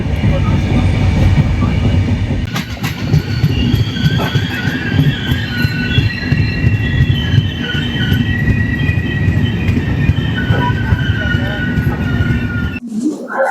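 The Navajeevan Express, running between Chennai and Ahmedabad in India, heard from on board: a loud, steady rumble of wheels on rails with rattling carriages and faint squeals, continuing throughout, with voices at times.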